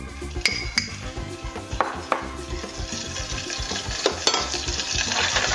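Butter melts and sizzles in a pan on an induction cooktop, a steady close frying hiss with scattered clicks and scrapes of utensils against the pan throughout.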